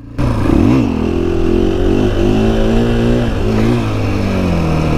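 A 2020 KTM 500 EXC-F dirt bike engine runs while riding, loud and close, with a quick rev near the start settling into a steady buzzing drone with slight pitch shifts, alone without talk.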